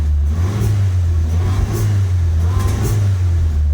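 A Nissan Super Turbo engine revving while running slightly rough, a loud close steady rumble with a strong low hum and uneven pulsing blips of throttle throughout.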